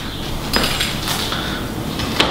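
A knife or cutter working through a Sicilian tuna pizza, with sharp scraping clinks against a pan or tray at irregular moments, close and fairly loud with no talking.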